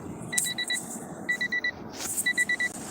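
Short electronic beeps in quick bursts of four to five, repeating over and over with brief pauses between groups, clear and fairly close.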